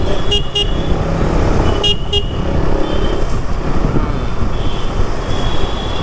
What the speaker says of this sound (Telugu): పికప్ కూడా చూడండి, ఉరుకుతుంది, దమ్ ఉరుకుతుంది బండి.